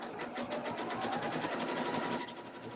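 Close, steady whirring chatter of a sewing machine stitching a Christmas spool garland near cording, a fast even run of needle strokes that continues without pause and tapers slightly at the end.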